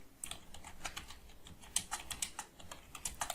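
Rapid, light clicks of typing on a computer keyboard come in an uneven, continuous rhythm, faint and close, with no voices.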